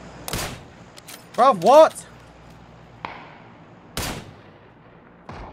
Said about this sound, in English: I'm so confused where these shots are going